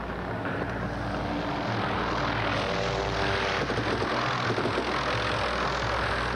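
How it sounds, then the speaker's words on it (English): A helicopter flies overhead on a 1984 film set, its engine and rotor a loud continuous drone that swells steadily without pause, no voices over it. "Action, William, there comes the chopper"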